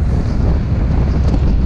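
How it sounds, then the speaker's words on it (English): Strong wind buffets the microphone at a huge outdoor mega ramp, a loud, steady, rushing roar with no talking. "The wind is not the way we want it to be"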